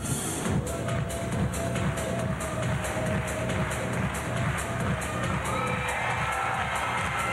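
A large arena crowd at the 2006 World Gymnastics Championships women's team final cheers for a gymnast, a steady roar of applause and shouts that holds across the whole stretch without letting up.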